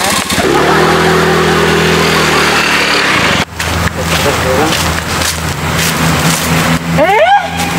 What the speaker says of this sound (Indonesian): Kita hidupin motornya.